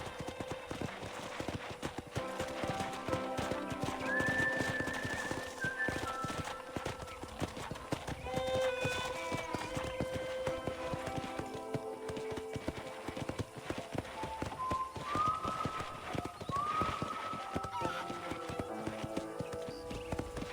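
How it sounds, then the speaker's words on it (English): Hooves clip-clop in a steady, rapid rhythm throughout as a horse gallops in the video game Red Dead Redemption, with occasional whinnies and a faint melody under game-like ambience, fairly quiet overall. "let's see if you can still ride a horse"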